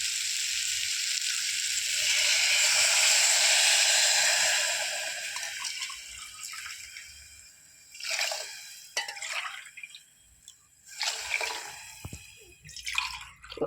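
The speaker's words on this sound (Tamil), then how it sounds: "அதே டம்ளருக்கு 3 டம்ளர் தண்ணி ஊற்றணும்" A steady stream of water pours and splashes into a pot of wheat rava for several seconds, then fades into intermittent splashing and stirring sounds.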